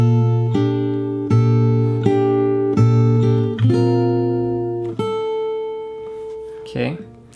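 Fingerstyle acoustic guitar playing the last part of the verse of a song, a slow run of plucked chords and ringing bass notes up close, ending with a brief handling noise and a short spoken word.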